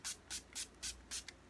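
Makeup setting spray hisses out in five or six short, crisp bursts at an even rhythm, close to the microphone and quiet overall, with no talking.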